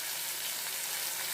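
Onions frying in a pan for a drumstick khurma, a steady close hiss of sizzling oil filling the short clip without pause.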